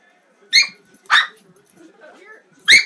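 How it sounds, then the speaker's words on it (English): A dog barks three times in sharp, spaced yaps, close and clear, with faint whimpering sounds in the quiet gaps between them. "Stop barking. Stop barking."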